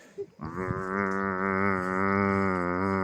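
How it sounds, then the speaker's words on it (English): Cows in a South African town give a loud, close, sustained moo lasting a few seconds after brief rustling, with no talk over it. "And here are the cows."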